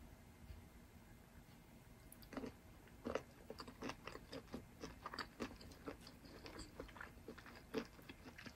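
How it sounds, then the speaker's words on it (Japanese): Someone biting and chewing shrimp mayo during a big-eating session, close and quiet, with soft repeated crunchy and squishy chews in an irregular rhythm and no talk. "今日はエビマヨを食べていきたいと思います。"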